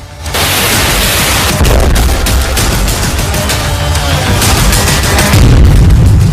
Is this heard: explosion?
yes